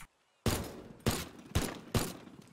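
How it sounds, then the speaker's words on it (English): Four heavy explosions boom in quick succession in the destruction game Teardown, each a sharp blast with a rumbling tail, spaced roughly half a second apart. "Let's not paint the explosions, because painting the explosions is too much."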